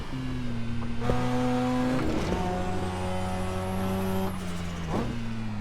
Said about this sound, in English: I absolutely love driving this RX-7 through the Nurburgring